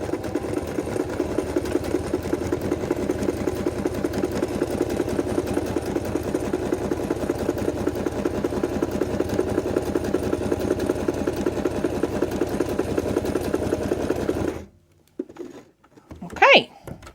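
A sewing machine stitching quilt pieces, running in a fast, even mechanical rhythm for about fourteen seconds, then stopping abruptly and leaving a few faint handling sounds.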